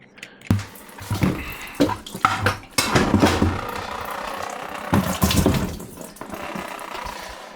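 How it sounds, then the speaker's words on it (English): Water pours in a steady stream from a drain at a small shed, a continuous splashing rush close by with a few louder surges and knocks along the way. "So that's been going for ages and still a steady stream of water."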